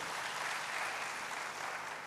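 A church congregation applauding during a sermon, a dense, steady wash of clapping from many hands, moderately distant and unbroken for the whole stretch.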